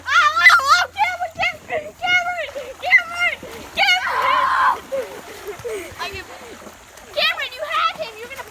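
Children splash and thrash through water during a backyard swimming race, bursts of splashing mixed with excited kids shouting and talking throughout.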